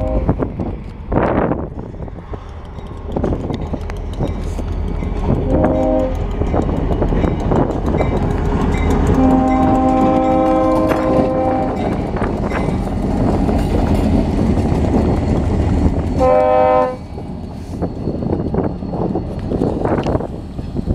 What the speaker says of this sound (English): That's the sound of 3512 approaching the East 100 South crossing.